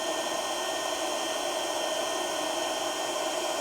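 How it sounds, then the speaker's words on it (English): A KKSEVENS induction heater's cooling fan runs with a steady, close, even whir, heating a rusted bolt without touching it. The whir holds level throughout with no speech. "you can hear the fan running on this thing already"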